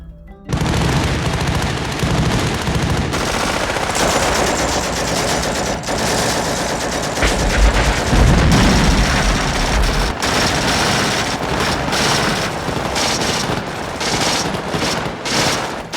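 Sustained bursts of automatic gunfire rattle continuously in a Vietnam War battle, with heavy booms and explosions mixed in, loud and close.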